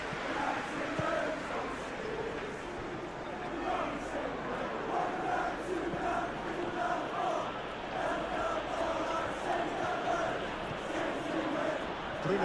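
Dense, steady roar of a football stadium crowd in the PES 21 video game during a Manchester City versus Newcastle United match, a continuous wash of chanting and cheering with no pauses.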